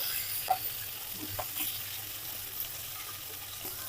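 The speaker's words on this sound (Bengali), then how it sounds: "এখন মাছগুলো বেজে নিচ্ছি একটু ভালোভাবে বেজে নিব" Fish fry in a pan with a quiet, steady sizzle, broken by a few soft clicks and scrapes from the utensils, heard faintly and close by with no talking.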